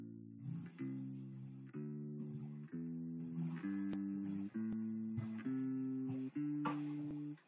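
Fingerstyle bass guitar, index and middle fingers alternating, plays steady 8th notes through a scale, eight evenly spaced plucked tones with soft finger noise between them, close and unaccompanied.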